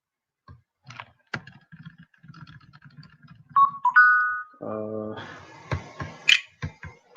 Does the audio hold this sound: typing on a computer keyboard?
yes